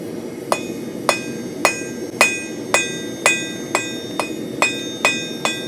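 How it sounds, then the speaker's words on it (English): A rounding hammer strikes hot metal while a hook is forged, about ten sharp ringing blows at a steady, even pace of roughly two per second. Each hit is loud and close, with a bright metallic clink and a short decay. "I'm using the rounding hammer for this"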